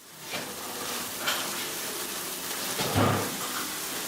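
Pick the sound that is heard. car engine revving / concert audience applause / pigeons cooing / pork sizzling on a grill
pork sizzling on a grill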